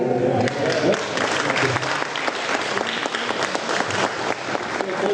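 An audience claps steadily and warmly, a dense sustained patter of many hands with a voice briefly audible at the start.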